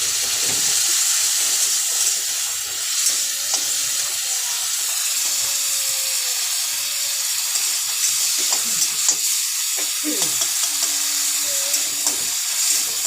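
Tomato cooks in a pan with a splash of water added, giving a continuous loud hiss of sizzling and steam with occasional faint stirring knocks.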